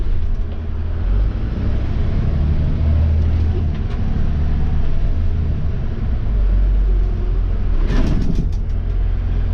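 A school bus engine idles and rumbles at the bus lot, a low steady drone with a brief brighter burst of mechanical noise near the end, no one talking.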